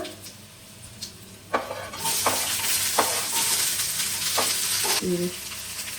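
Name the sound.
onions frying with dried chillies and garlic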